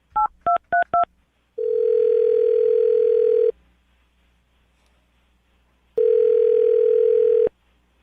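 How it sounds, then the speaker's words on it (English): Four quick touch-tone beeps as a number is dialed, followed by two long ringing tones separated by silence. "I'm going to dial her phone number right now."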